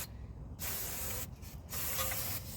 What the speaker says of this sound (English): I'm going to hit it with a little bit of brake cleaner